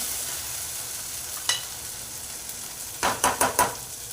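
Egg curry frying in a pan gives a steady low sizzle, with a spoon scraping once and then a quick cluster of four stirring scrapes near the end.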